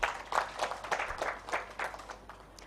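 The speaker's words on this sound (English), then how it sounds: "A hand clap for Miriam." A modest audience claps briefly at a women's investment breakfast event, light scattered hand claps in a loose, uneven patter at moderate distance, with no talk over them.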